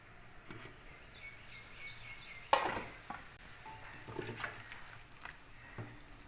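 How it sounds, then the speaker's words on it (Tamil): A pot of fish curry boils quietly with a soft, continuous bubbling hiss, with one sharper clank of metal partway through and a few faint knocks. "குழம்பு நல்லா கொதிச்சிச்சு"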